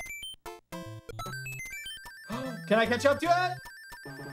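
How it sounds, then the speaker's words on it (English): Bright chiptune notes from Super Mario Bros. 3, including the quick rising one-up jingle, ring out in short beeping bursts, with a person talking over part of the sequence. "that one-up sound is getting annoying"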